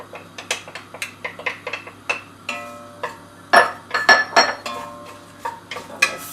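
A spoon scrapes and knocks against a pan while onions and garlic are stirred in olive oil for lasagna, a series of sharp metallic clinks and taps in an irregular rhythm, close and clear, with no voices.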